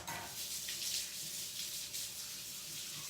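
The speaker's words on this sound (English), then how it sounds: "I'm actually gonna rinse that real fast" A dish is rinsed under a running kitchen tap, giving a steady, fairly quiet stream of splashing water with no break for about three seconds.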